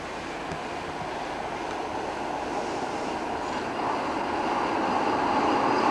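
A Budapest tram from 1989 rolls along the rails with a steady broadband rumble and rattle that swells slightly louder toward the end, with no voices present.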